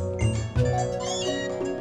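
Meowth's cry in the Pokemon Moon video game, a short synthesized cat-like meow repeated twice over a continuous game music background.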